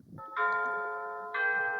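An electronic bell rings indoors as a two-note ding-dong chime, close and clear, with faint room noise before it.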